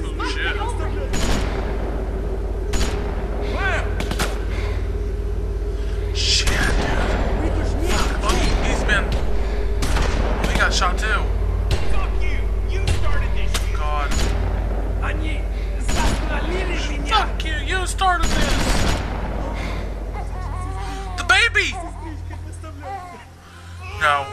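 Gunfire in The Walking Dead video game comes as repeated loud bursts and booming shots over a heavy low rumble, with voices shouting in between.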